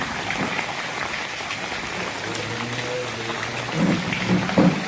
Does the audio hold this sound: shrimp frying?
no